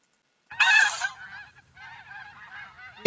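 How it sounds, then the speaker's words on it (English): Geese at the Cheyenne Bottoms wetland honk loudly after a brief silence, a burst of harsh calls followed by a steady stream of quieter honking from the flock. "We also get a lot of geese that stop in at Cheyenne Bottoms."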